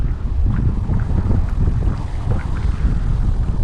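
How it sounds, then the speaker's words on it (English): Steady, loud wind buffets the microphone on a cloudy, rainy coastline near rocks at Isipingo, a continuous broadband roar with gusty swells and no voices. "it's cloudy, it's windy, there's rain"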